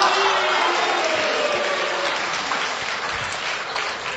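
Dense applause from an audience at a live Chinese comic storytelling performance, a steady even wash of clapping that holds loud for several seconds and eases slightly near the end.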